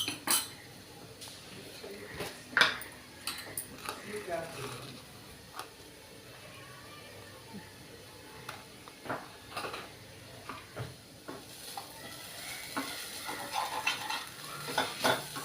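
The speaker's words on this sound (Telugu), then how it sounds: "సిమ్లో పెట్టి బాగా వేయించుకోవాలండి" Spiced paste with salt, turmeric and chili powder frying in oil for a rasam curry, soft sizzling under intermittent scraping and clinks of a utensil stirring in the pan, fairly faint, with a voice talking over it.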